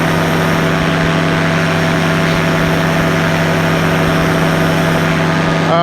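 A Rotax 582 two-stroke engine of 65 horsepower drives a powered parachute in flight, a loud, steady, unbroken drone with a strong low hum that holds throughout, with no speech.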